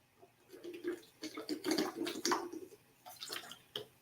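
Water runs and splashes in bursts, as if being poured or drawn from a tap, close by and moderately loud, with brief pauses between pours and no talk.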